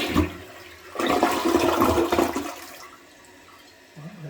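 A newly installed toilet flushes: a loud rushing swirl of water surges for about two seconds, then fades into a quieter trickle as the bowl refills.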